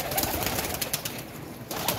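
Pigeons kept as breeding pairs coo softly amid a dense, hissy wash of birdsong and ambient noise, the calls blending together without clear separate notes.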